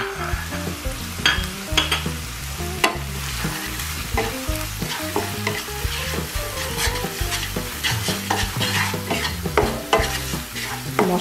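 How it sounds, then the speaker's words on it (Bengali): Spices with salt and turmeric are stir-fried in oil for an egg curry, a loud continuous sizzle broken by frequent rhythmic scraping and stirring strokes against the pan. "সাথে আমি এই মশলাগুলো লবণ হলুদ সব দিয়ে দিলাম।"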